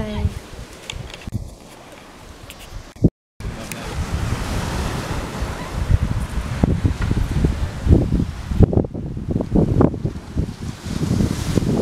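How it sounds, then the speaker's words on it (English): Sea waves wash onto a quiet beach in Lanzarote, a loud, steady surf roar with rising and falling surges, mixed with gusty wind buffeting the microphone and a brief dropout partway through. "Nice quiet beach. Lovely sea."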